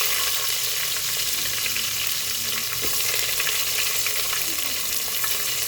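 Garlic and onion sizzle and fry steadily in a hot pan for cucumber dal, loud and close with faint stirring, no talking.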